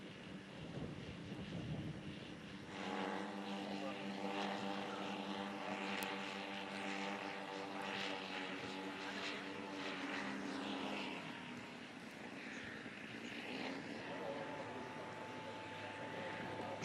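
Propeller airplane with its landing gear extended on short final approach, engine drone steady and fairly close with a clear harmonic whine throughout, fading slightly toward the end.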